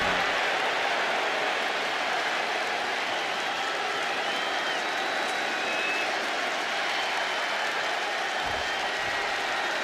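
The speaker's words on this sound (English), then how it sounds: "Just listen to this crowd. Every one of them is on their feet." A packed arena crowd roars and cheers in the wrestling game WWE 2K26 during a Monday Night Raw show, a dense, steady wall of noise that holds at full volume for the whole stretch.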